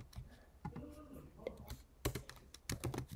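Keys clack on a computer keyboard as a copy shortcut is typed, a few sharp close clicks in quick bursts, with a soft voice briefly murmuring between them.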